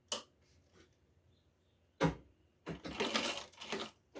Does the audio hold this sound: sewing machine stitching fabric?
yes